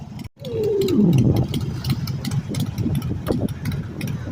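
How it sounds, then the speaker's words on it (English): A motorcycle engine rumbles nearby, rising briefly then settling into a steady drone amid street traffic noise. "Nice motorcycle."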